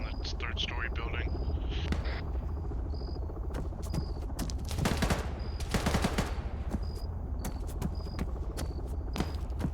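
Distant gunfire in the video game Arma 3, with sharp bursts and scattered shots from far off, a heavier volley mid-way, over constant ambient chirping and a steady background hiss.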